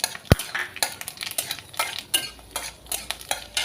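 Chili and black cumin seeds tempering in hot oil give a light, irregular crackle and spatter, punctuated by sharp metallic clicks of a spoon stirring the pan, close and moderately quiet with no talking.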